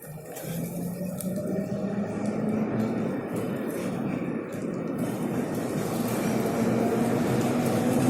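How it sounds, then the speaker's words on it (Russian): A tram rolls along rails on a St. Petersburg street, a steady loud rumble with a rising whine and a faint high squeal, continuous and close throughout. "Трамвай."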